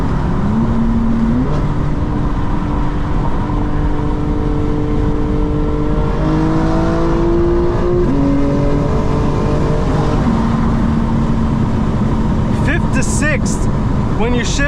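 A 2025 BMW M4 Competition xDrive engine pulls loudly up through the revs, with pitch climbing and dropping at several gear shifts, heard steadily from inside the cabin.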